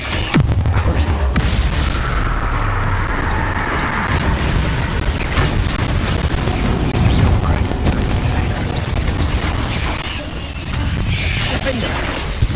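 A Crucio curse cast in the Hogwarts Legacy video game, carried by heavy, rumbling booms and crackling bursts that roll on continuously and loudly through the stretch of spell combat.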